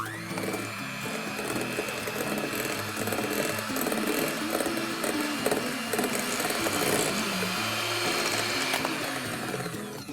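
An electric mixer beats softened butter with caster sugar for chocolate sponge cake batter, a constant loud motor whir with a steady pitch running throughout, beaters rattling against the bowl.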